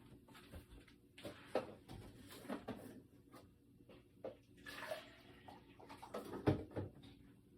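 Water in a watercolor painter's rinse jar is emptied and refilled, giving faint intermittent splashes and trickles with small knocks of the jar between them.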